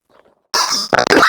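A few harsh coughs, close and loud, come in a quick burst after a moment of near silence.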